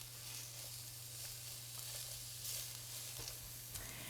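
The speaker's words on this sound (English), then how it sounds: "You hear that fizzling? That means the heat is great." Steady, quiet crackling sizzle of onions and peppers frying in a hot skillet, with faint pops and a low hum underneath.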